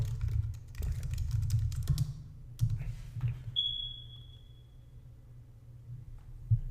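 Typing on a computer keyboard, quiet close key clicks in quick irregular bursts, then a pause and a few last taps over low background hum.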